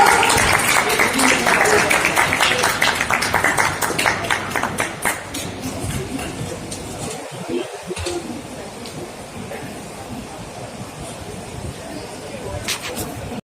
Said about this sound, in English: can we have a huge round of applause, ladies and gentlemen, for Rajiv Nag?